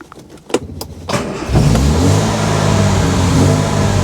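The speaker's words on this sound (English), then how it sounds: "The car does start" A Riley Kestrel (ADO16) car engine cranks with a few clicks, then catches and settles into a loud, steady running rumble close by.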